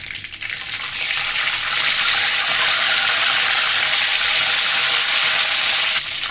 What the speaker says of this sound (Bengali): দেখিয়ে বুঝতে পারতেছেন আমি ডিমটা কীভাবে ভেজেছি